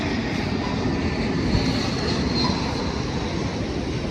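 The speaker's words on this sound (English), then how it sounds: "I hear a plane going by there." An airplane flying overhead gives a steady, broad, even roar that holds at one level throughout, with no voices.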